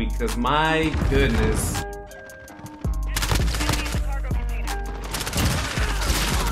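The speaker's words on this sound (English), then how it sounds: "this AK-47, that recoil is still pretty hefty" AK-47 gunfire in the video game Modern Warfare, mounted and firing electric tracers: loud rapid bursts of automatic shots that stop briefly and then resume, with someone talking over the start.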